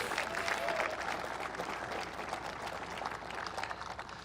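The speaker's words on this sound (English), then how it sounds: "You should applaud that." Audience applause at a presidential campaign rally in Arizona, a dense, steady wash of many hands clapping that stays loud throughout and fades slightly near the end.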